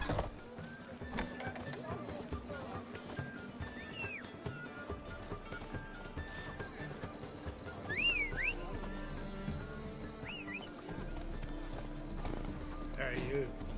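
Roach the horse gallops in The Witcher 3, rhythmic hoof clip-clops running steadily throughout with a neigh and brief voices over a game music bed.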